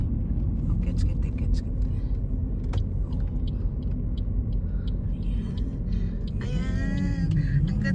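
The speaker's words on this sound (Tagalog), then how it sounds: "Istorbo naman tong sasakyan." A car drives past on a road under a blue sky, a steady low rumble that swells toward the end, with a faint voice and other movement nearby.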